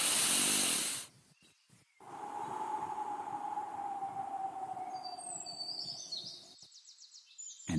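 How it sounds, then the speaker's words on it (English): One slow, deep breath is drawn in steadily over several seconds, soft and close, after a brief burst of noise, with faint chirping tones near the end. "Take a deep breath"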